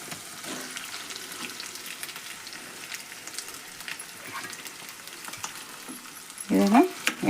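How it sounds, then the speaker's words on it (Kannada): Boiled potatoes frying in hot oil for sabudana khichdi sizzle steadily as a soft broadband hiss, with a louder burst of sizzling and a stirring clatter near the end; no one talks. "ಇದನ್ನು ಎಣ್ಣೆ ಒಳಗೆ ಫ್ರೈ ಮಾಡ್ಕೊಳ್ಳೋಣ್ರಿ"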